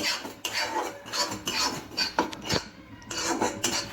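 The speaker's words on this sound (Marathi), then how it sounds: "त्यामध्ये मी ही खसखस टाकणार आहे. ती मी 2 मिनिटं छानसं परतून घेणार आहे" Dry poppy seeds scrape and rattle against a metal pan in repeated stirring strokes as they roast, close and moderately loud, with a spoon clinking now and then.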